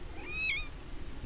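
A kitten gives a single short, high meow, moderately close, over a low outdoor background rumble, with no talking.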